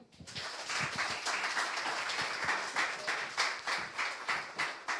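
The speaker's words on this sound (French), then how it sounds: "On peut l'applaudir?" A church congregation applauds during a Sunday worship service, steady dense clapping from a sizable crowd filling the whole stretch, fairly even in loudness with no voices on top.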